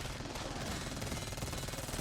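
An SMG fires in a video game in a rapid, sustained stream of shots that stays loud and dense for the full two seconds.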